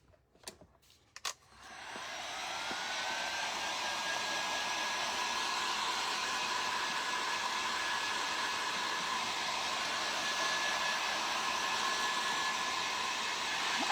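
A hair dryer blowing on freshly brushed Wizard of Oz Metallic paint from the Plaster Company clicks on after a couple of sharp taps, then holds a steady, close whooshing roar.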